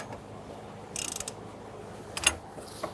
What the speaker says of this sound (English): you're going to use a ratchet with a 1/2 inch fitting there